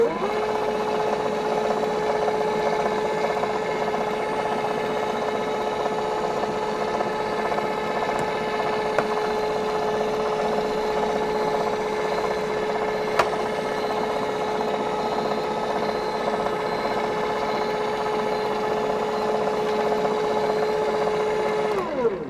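An Unicum roller shutter motor runs steadily under test, a continuous close whirring hum with a fixed tone and faint clicks, holding evenly throughout with no voices.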